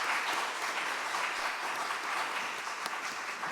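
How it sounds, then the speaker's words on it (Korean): A room of young people and church members claps in steady, dense applause, loud and close, sustained evenly from start to finish with no talk over it. "우리 친구들의 격려의 박수 하겠습니다."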